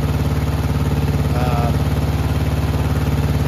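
A lawn mower engine runs steadily at idle after an oil leak by the carburetor, a loud, even, rapid putter with a faint higher whine and no talking.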